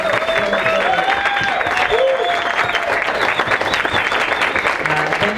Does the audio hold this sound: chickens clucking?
no